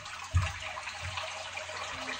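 Hot water runs steadily from a bathroom tap, a soft continuous hiss and splash with a brief low knock near the start and no talk over it.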